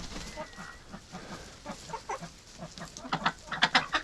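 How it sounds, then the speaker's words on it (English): Clucks and short calls from farm poultry, including a large male duck, flicking their wings: a run of choppy bird calls that grows louder and busier toward the end. "Oh, you're a big duck."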